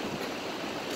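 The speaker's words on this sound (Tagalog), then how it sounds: "Ang daming alon." Sea waves on a beach make a brief, steady rush of broadband surf noise, moderately loud and continuous, with no voices.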